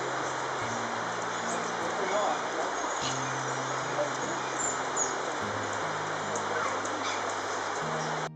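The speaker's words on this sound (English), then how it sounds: "It might be raining, but the birds were very active." Birds call through steady rain in a Costa Rica garden: scattered short chirps and whistles sound faintly and at a distance over a constant hiss of falling water, with a low murmur underneath.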